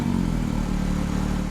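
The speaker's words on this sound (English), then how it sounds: "Take a listen to a couple of revs." A Porsche 911 GT3 (992) with a lighter exhaust gives a short, close burst of raspy engine rumble, rising briefly as the throttle is blipped.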